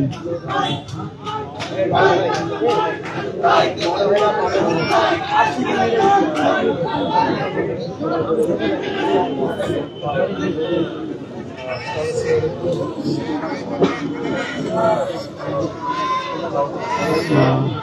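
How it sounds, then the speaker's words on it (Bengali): A dense crowd of students massed at a protest near Dhanmondi 32 in Dhaka produces continuous loud voices and rough shouted chanting, without a clear pause across the stretch. "শিক্ষার্থীরা স্লোগান দিচ্ছেন"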